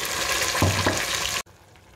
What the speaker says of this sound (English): So I'll go on and add my blended pepper.